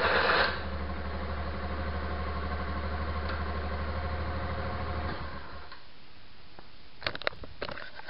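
A Honda AN125 scooter-style motorcycle engine idling after a kick start, a steady fast ticking putter for about five seconds before it cuts off, followed by a few faint knocks and clicks.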